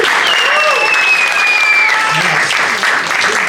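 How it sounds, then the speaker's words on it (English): An audience applauds at the Laugh Factory comedy club in San Diego during a late show: loud, dense, continuous clapping fills the room, with a high whistle rising above it and crowd noise mixed in. "please give them a round of applause"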